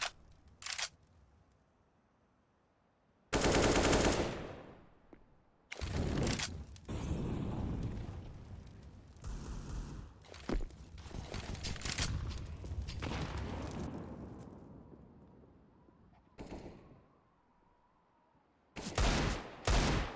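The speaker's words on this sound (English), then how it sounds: "Freddy with 2 from inside, both with the silenced M4" Suppressed M4 rifle fire in a Counter-Strike esports match, several sharp bursts and scattered shots between quiet gaps, loud and close with game ambience in between.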